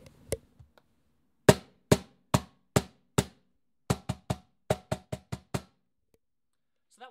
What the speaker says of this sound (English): So that was dampening the tone with my left hand,